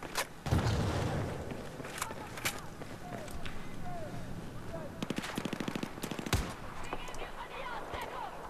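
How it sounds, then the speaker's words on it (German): Gunfire in the video game Battlefield 4 as barrels are shot apart, with repeated rapid bursts of automatic fire and single shots over an ongoing battle ambience, while someone talks over it. "Alle Fässer erstmal kaputt schießen"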